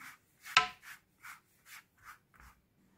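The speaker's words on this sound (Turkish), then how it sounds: "şimdi her tarafına gelecek şekilde sıvı yağ sürüyoruz bir fırça yardımıyla" A brush spreads cooking oil over food in about seven short, soft strokes, one sharper than the rest, set apart by quiet pauses.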